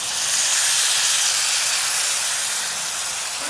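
Water poured into a hot pan of venison stew to loosen the browned bits stuck to the bottom, giving a loud, steady sizzling hiss that holds evenly throughout.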